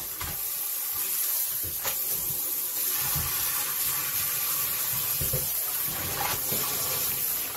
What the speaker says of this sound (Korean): 뜸 들인 지 1시간이 지난 시래기는 찬물에 3번 정도 헹구어 줍니다.